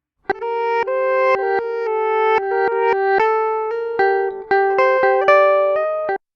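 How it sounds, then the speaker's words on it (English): A steady run of harmonic, tonal notes with abrupt cuts and swelling-then-cut-off envelopes, like a passage played backwards; no talking. "And I can even reverse entire sections."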